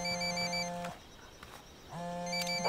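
A phone rings inside the video game Ghost Recon Wildlands, two long electronic ring bursts separated by a short pause, fairly clear and steady with no talking over them.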